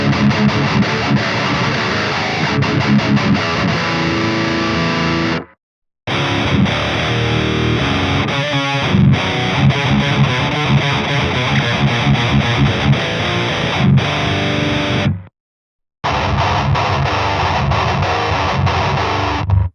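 Heavily distorted metalcore guitar played through a Slaughter amp simulator, chugging riffs loud and continuous with two brief silent gaps where the playing stops and restarts.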